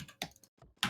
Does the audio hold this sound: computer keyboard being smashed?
yes